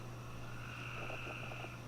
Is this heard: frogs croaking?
yes